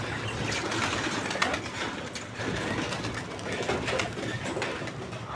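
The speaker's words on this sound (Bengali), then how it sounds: "এখন পায়রাগুলোকে হালকা করে একটু ওড়াতে হবে" Pigeons coo steadily in a loose chorus close by, a soft, continuous murmur under faint background noise with no talking.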